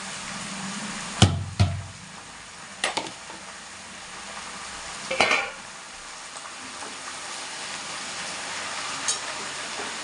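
Leafy greens cook in a wok with a soft, low sizzle, broken by a few sharp clanks and scrapes of a spatula early on and a brief hissing burst midway; fairly quiet and without voices.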